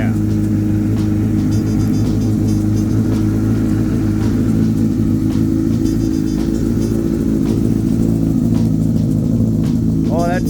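Loud, close idle and rumble from a 2007 Honda CBR1000RR sportbike with a Two Brothers aftermarket exhaust, a steady throaty drone that swells slightly, with a quick rev rising near the end.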